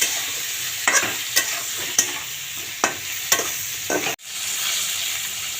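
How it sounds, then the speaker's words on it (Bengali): Slices of pointed gourd (potol) frying in a pan until reddened, with a steady close sizzle and several sharp clinks and scrapes of a spatula turning them, ending in a brief cut before the sizzle resumes. "পটল ভাজাটা হয়ে গেছে লাল লাল করে ভাজি ভেজে নিলাম"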